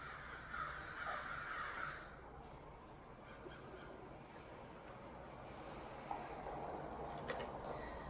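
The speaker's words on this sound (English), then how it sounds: "The crows are very vocal here this morning." Faint crows caw in the distance over a hushed outdoor morning background, with a few harsh calls early on and another brief one near the end.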